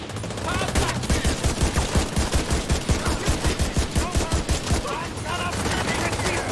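Rapid automatic gunfire from The Division 2 hammers out in a steady burst of closely spaced shots, loud and near, with a dense rumble of battle noise before and after.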